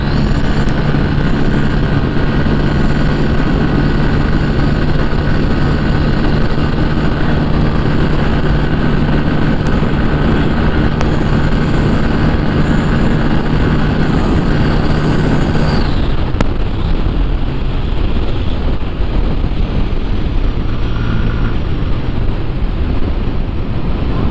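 Bajaj Pulsar NS160 and N160 motorcycles race with engines held against the rev limiter, a loud, sustained drone buried in heavy wind buffeting that shifts and drops in pitch partway through.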